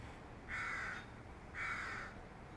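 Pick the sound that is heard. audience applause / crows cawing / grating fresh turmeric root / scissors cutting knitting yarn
crows cawing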